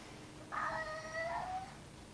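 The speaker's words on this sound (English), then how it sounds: "she meowing, you heard that?" A single faint, drawn-out meow from an elderly house cat heard through a window, rising and then trailing off over a quiet background hum.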